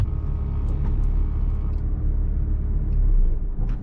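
Engine of a manual-transmission car idling and running steadily with a low rumble, close and continuous, just before a novice driver stalls it.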